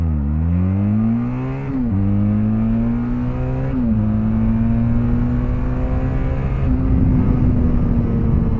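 Benelli TRK 502 X motorcycle pulling away from a standing start and accelerating hard to 100 km/h, engine loud and close, rising in pitch through several gear changes with brief dips between shifts.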